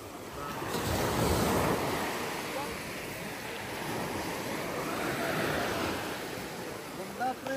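Strong ocean waves surge and wash continuously at Pasicon Beach, Siargao, with gusts of wind buffeting the microphone. The roar swells and eases in broad waves, close and fairly loud, with faint voices here and there.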